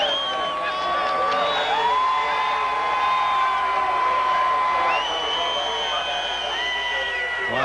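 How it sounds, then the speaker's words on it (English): A crowd in Victory Lane applauds and cheers a NASCAR Winston Cup race win at the 1999 California 500, a steady, dense wash of distant cheering under a voice talking throughout. "there's a huge round of applause for Jeff Gordon in Victory Lane"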